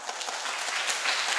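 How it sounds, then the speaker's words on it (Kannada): Steady audience applause at a comedy show, many hands clapping in a dense, even wash throughout, moderately distant and fairly quiet, with no voices standing out. "ಬರಲಿ ಒಂದು ಜೋರಾದ ಚಪ್ಪಾಳೆ"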